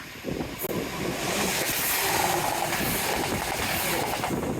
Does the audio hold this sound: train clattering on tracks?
yes